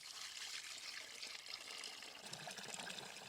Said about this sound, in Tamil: கறி முங்குற அளவுக்கு தண்ணி சேர்த்து வேக வச்சுக்கலாம்.